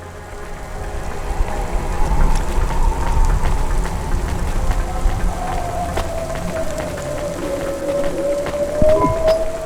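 Steady rain falls in the Cloudpunk video game, a dense, even patter that continues throughout at moderate loudness with a faint tonal drone underneath.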